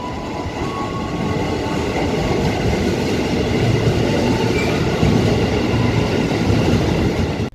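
Commuter train at Tanah Abang Station in Jakarta, a steady loud rumble of rolling wagons with faint clickety-clack, continuous and close throughout with no talking.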